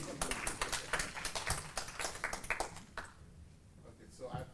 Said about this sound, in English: should we clap for this?